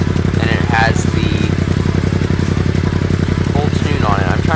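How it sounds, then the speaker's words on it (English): Yamaha MT-07 motorcycle fitted with a full Akrapovic titanium exhaust and Power Commander tune, idling with a steady, loud low rumble throughout while someone talks over it. "this is the full Akrapovic exhaust, titanium exhaust"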